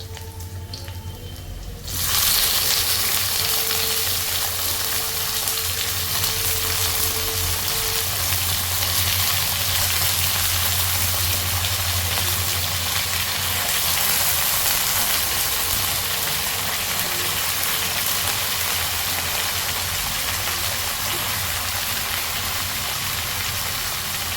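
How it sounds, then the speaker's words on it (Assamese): Vegetables dropped into hot oil for an Assamese-style dish: a sharp onset at about two seconds, then a loud, steady hiss of frying that runs on alone for over twenty seconds. "এতিয়া মই চব্জিখিনি ঢালি দিম, তৰকাৰীখিনি কাটি থোৱা"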